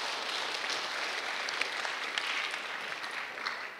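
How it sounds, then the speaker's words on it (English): Steady audience applause after a panel discussion at a conference on production forests, a dense even patter of clapping throughout with no clear voices on top. "Please give a big round of applause to the speakers."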